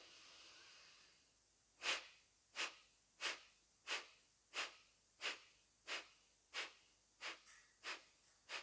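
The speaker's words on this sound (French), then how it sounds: "Dans l'idéal, on essaye de respirer uniquement par le nez." Rapid, forceful breaths through the nose in a yoga breathing exercise, about a dozen sharp, evenly spaced puffs after a quiet start, close and fairly faint.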